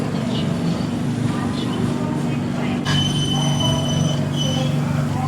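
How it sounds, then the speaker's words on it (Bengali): A passenger train runs on the journey from Kolkata to Haridwar, with a continuous low rumble and rattle of carriages, a few faint metallic squeals, and soft voices murmuring in the background. "ট্রেন একদম যথারীতি ঠিকঠাক টাইমে ছেড়ে দিয়েছে"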